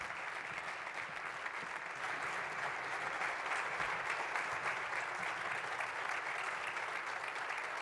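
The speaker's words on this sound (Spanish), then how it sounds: "pido un aplauso para ellas" An audience at a round-table event on women in the armed forces claps steadily for several seconds. The applause is even and sustained from start to finish, with no voices standing out above it.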